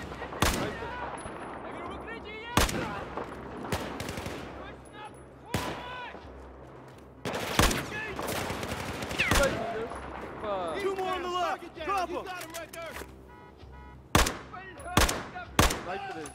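Battlefield 4 combat gunfire: sharp, loud shots and short automatic bursts fire at irregular intervals amid a busy battle din, with soldiers shouting in between.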